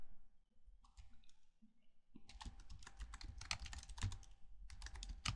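Rapid clicking of computer keys as someone types a formatting tag into code, starting with a few scattered taps and then building into a steady, close, busy run of keystrokes with no talking.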